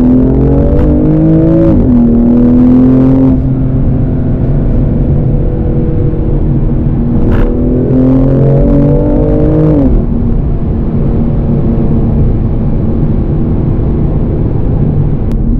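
A BMW M2 Competition accelerating hard on a straight, its engine note loud and close, climbing in pitch through two upshifts before settling into a sustained high-revving drone.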